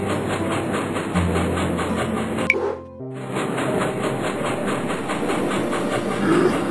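A cartoon train rolls along its tracks in a children's learning game, with a steady, loud clickety-clack rumble that drops out briefly in the middle and then resumes.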